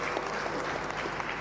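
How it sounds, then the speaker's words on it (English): Audience at a Tanzanian ICT conference clapping for the presenters, a brief dense burst of applause from a crowded hall. "Let's give a round of applause for the presenters then."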